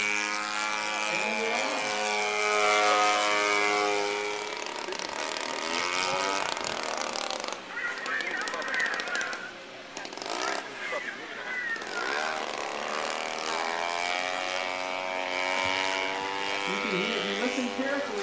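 A droning propeller airplane engine hums steadily throughout at an air show, rising and falling as it passes overhead, with a voice talking over it much of the time.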